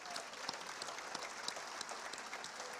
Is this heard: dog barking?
no